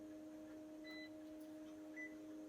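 Short electronic beeps from a card reader on a Konica Minolta printer as an access card is held to it, two faint tones over a steady machine hum.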